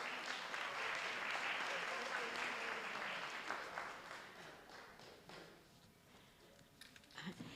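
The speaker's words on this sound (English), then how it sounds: "So let's give them all a round of applause." An audience at a high school senior community awards ceremony claps in a strong burst that slowly thins out and fades over several seconds.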